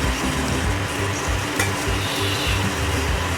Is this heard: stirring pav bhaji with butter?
yes